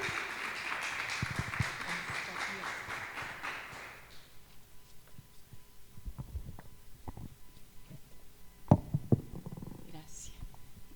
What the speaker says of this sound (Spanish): Dele un fuerte aplauso a Jesús.